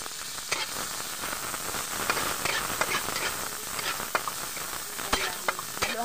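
Onion and tomato being stirred in a sizzling pan, a steady frying hiss broken by scattered clicks and scrapes of the utensil against the pan, close and fairly quiet with no talk.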